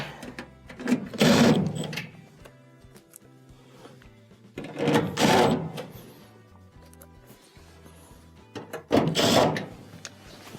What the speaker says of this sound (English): put our first screw in. Do the other ones here